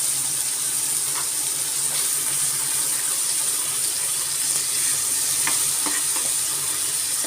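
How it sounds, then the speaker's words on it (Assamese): A paste of onion, garlic, ginger and tomato sizzles steadily in a hot pan while being stirred, with occasional scraping clicks over the continuous frying hiss. "এইখিনি ভালদৰে লৰাই ল'ব লাগিব"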